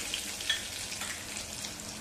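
Dried red chillies and turmeric sizzling in hot garlic oil for a tempering, a dense bright hiss with faint crackles continuing evenly throughout.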